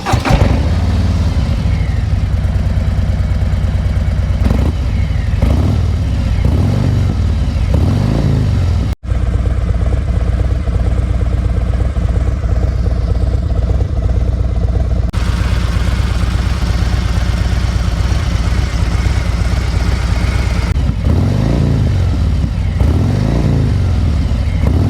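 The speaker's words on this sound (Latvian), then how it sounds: "viņam ir Screaming Eagle izpūtēja sistēma uzlikta, tāpēc skaņa viņam ir superīga" A 2026 Harley-Davidson Road Glide with a Screaming Eagle exhaust, its deep engine rumbling loudly and close throughout, with a brief cut and several throttle blips and revs rising and falling.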